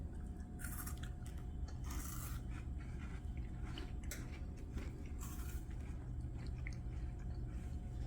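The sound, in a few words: chewing a Canadian chocolate wafer snack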